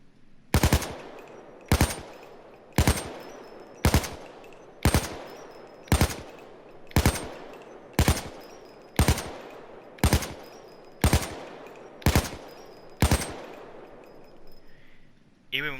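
An AK-74 assault rifle in the Payday 2 video game fires about fourteen loud single shots at a steady, roughly one-per-second pace, each shot sharp with a short ringing tail.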